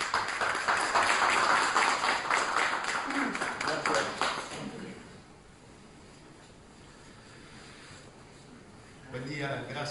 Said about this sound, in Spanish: al doctor Gustavo Salle, al que recibimos con un fuerte aplauso